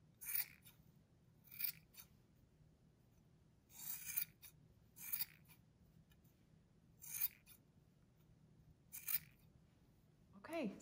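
Scissors snip through yarn while trimming a crochet pom-pom, about eight short bursts of cutting spaced a second or two apart, close and fairly quiet against a low background hum.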